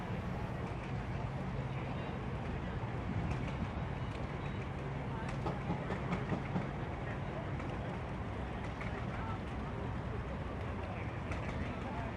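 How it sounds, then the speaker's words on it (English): A pair of Indian Pacific diesel locomotives hauling a mixed freight train passes through Maitland, giving a loud, steady rumble with a low engine drone that holds unbroken throughout. "a pair of units from the Indian Pacific are seen passing through Maitland with a mixed freight"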